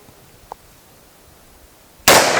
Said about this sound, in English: So here we go, Glock 29 135 grain Underwood.